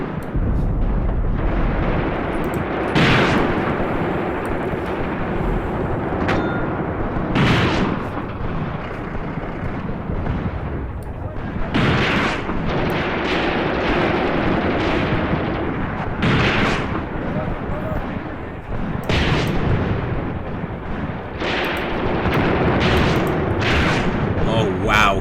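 Artillery fires in the war game Graviteam Tactics: Mius Front, heavy booms landing every few seconds over a dense roar of battle, loud and close.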